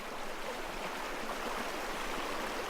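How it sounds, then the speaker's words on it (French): Water flowing continuously, a dense, even rushing wash like a stream, steady throughout and moderately loud with no voices. "l'influence positive du bruit du clapotis de l'eau ou de l'écoulement en continu de l'eau"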